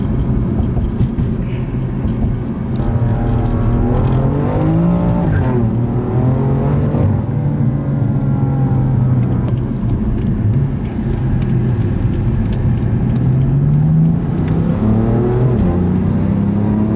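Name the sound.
BMW M3 engine sound while driving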